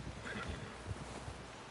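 A horse neighs in the open-world game Red Dead Redemption 2, a faint, brief whinny amid soft hoof clops and low background rumble.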